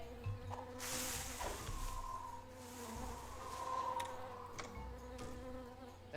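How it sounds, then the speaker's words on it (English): Jungle insects drone and buzz continuously in the Tales of Monkey Island video game. The faint, steady chorus of wings and chirrs holds a wavering tone, with no voices. "That jungle sure is noisy."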